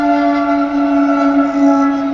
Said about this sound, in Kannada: ಒಂದೇ ಬರ್ತಾ ಟ್ರೈನ್ ಬಂತು ನೋಡ್ರಿ